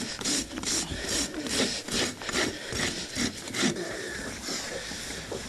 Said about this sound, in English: I'm going to rasp his toe down, dress it off.